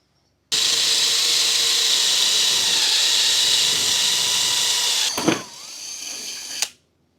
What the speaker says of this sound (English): all the holes are drilled